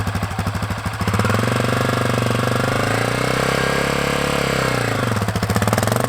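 A Honda CRF250F dirt bike's engine rises from a choppy idle to a smooth, loud drone as it pulls away in first gear, pitch climbing and then settling, close and continuous.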